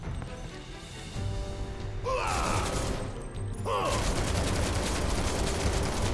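Barret's heavy gunfire in the video game Final Fantasy VII Remake, loud sustained bursts that start and stop twice, under faint talk and game sounds.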